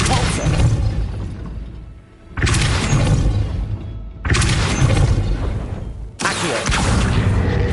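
Depulso spell cast repeatedly in Hogwarts Legacy, four loud booming whooshes with shattering crashes, spaced roughly two seconds apart, each decaying before the next, close and without talk.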